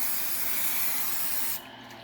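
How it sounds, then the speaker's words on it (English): Grill Master cooking spray hisses onto a hot pan in one steady, close burst lasting about a second and a half, then cuts off sharply into quiet room tone. "I'm going to go ahead and spray a little bit of"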